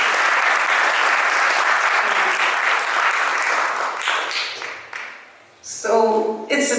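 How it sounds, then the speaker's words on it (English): Audience applause for community associations at an ISKCON Chicago community leaders appreciation event: steady, dense clapping fills most of the clip, then fades as a voice begins speaking near the end. "So let's really give a big round of applause to all these associations who have been helping."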